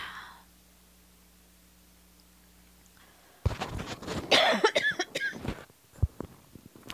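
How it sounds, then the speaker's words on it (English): After a few seconds of quiet, someone coughs several times in a row, close up, with harsh, uneven bursts. "Sorry for that cough again."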